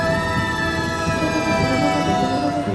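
A wailing ambulance siren sounds loud and close, its steady tones held over a rumble of traffic noise throughout.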